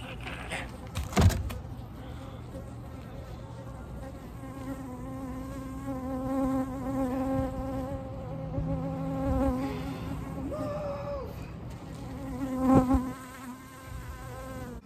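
A bee or wasp buzzes steadily and close by for about fifteen seconds during furniture refinishing, its whine wavering in pitch as it moves around, with a couple of brief knocks.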